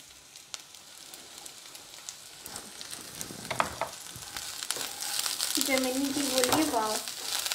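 A few strands of chopped carrot hit a hot frying pan, and the sizzle builds and grows louder toward the end while someone talks over it.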